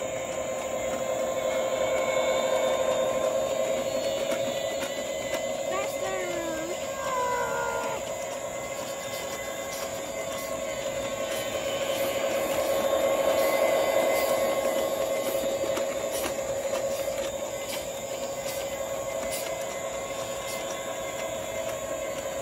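Santa Fe Super Chief model train running outdoors in a park, a steady rolling rumble with a sustained tonal whine throughout, fairly even in loudness, with faint background activity.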